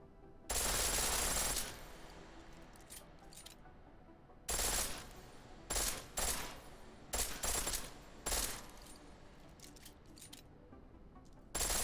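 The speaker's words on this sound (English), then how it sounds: "The pistol in full auto will take down targets fast, but it'll burn through your ammo." A pistol in Deus Ex: Mankind Divided fires on full auto in several rapid bursts: one long opening burst, then a string of shorter volleys separated by quiet pauses.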